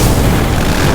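Incendio fire spell explosion in the mobile game Harry Potter: Magic Awakened, a single loud, dense whooshing burst of fiery noise lasting about a second with no voices.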